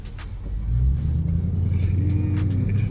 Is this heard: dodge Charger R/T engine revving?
yes